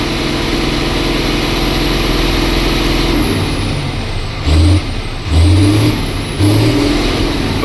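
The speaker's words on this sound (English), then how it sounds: "It's making good air pressure, popping off." A DT466 diesel truck engine idles steadily and loudly while building air pressure, with a few short, deep puffs as the valve pops off near the end.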